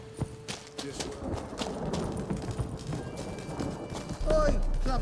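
Horse hooves clop steadily in The Witcher 3 video game, a quick uneven gait of sharp hits on the ground with a brief neigh near the end, under game dialogue and ambience.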